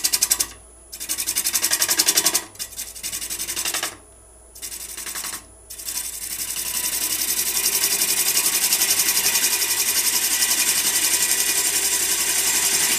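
Wood lathe turning a bowl while a bowl gouge cuts, a dense buzzing chatter broken by a few short pauses before settling into a steady, continuous cutting drone.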